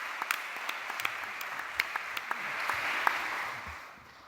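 Audience applause greets David Holmgren as he steps up to speak at a debate event, a steady wash of clapping with a few sharper individual claps that swells slightly before tapering off.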